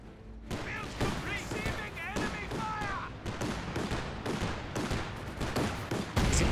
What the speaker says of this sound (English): detonates a landmine there